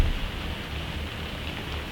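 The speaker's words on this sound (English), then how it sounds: "See if you can hear the rain on the roof." Rain falls on the roof of a summerhouse studio, a soft continuous patter and hiss, fairly even and moderately quiet, with no voices.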